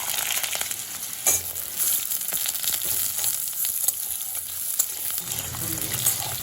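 Cut potatoes sizzle and crackle in hot oil over a medium flame, a steady close hiss broken by a few sharp clinks of stirring, with no talking.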